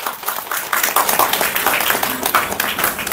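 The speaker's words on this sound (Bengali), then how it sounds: "তো একটা জোরে হাততালি হয়ে যাক" Loud applause at a Baisakhi 2025 calendar shoot launch: a crowd claps in quick, dense bursts for about three seconds, steady and close.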